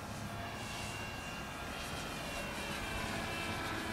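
A Great Planes Gee Bee Tx-R radio-controlled airplane's engine whines steadily as the model flies a full-speed pass, a faint, continuous high buzz over outdoor wind noise.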